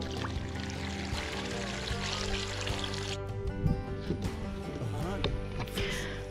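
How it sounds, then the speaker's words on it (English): Water pours steadily into a container being filled to a set level for soaking a whitetail deer skull during a peroxide Euro mount, running continuously under a person's talking. "we're going to want to fill this up with water until about here."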